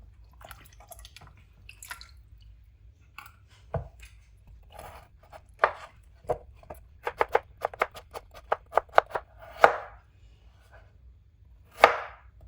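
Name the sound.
vegetables being chopped into small pieces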